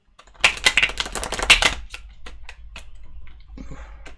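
Crisp riffling and snapping of tarot cards being shuffled close up, a quick burst followed by lighter taps and slides.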